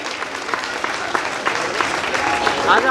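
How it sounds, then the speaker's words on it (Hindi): An audience applauds steadily at a Jain muni diksha ceremony, a dense continuous patter of many hands that holds level and swells slightly toward the end. "कृपया इन सभी के लिए एक बार जोरदार तालियों से इनका अभिवादन करेंगे।"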